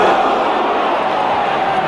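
The stadium crowd roars and murmurs at a suspected spear tackle during a 1992 rugby league match between Leeds and Hull KR, with a sustained, distant wash of voices.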